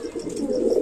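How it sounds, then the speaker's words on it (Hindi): Rampuri and Shahjahanpuri pigeons coo in a low, continuous murmur, several birds overlapping closely with a soft, throaty rolling sound. "कबूतर सब"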